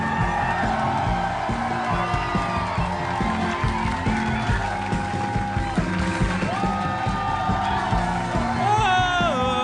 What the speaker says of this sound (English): Let's hear one more time from the mayor, Mr. Dan Harmon